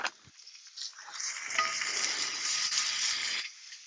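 Ribeye brisket slider patties sear in a hot cast-iron pan, a steady broad sizzle that swells after a soft clink at the start and holds loud and close, with no talk over it.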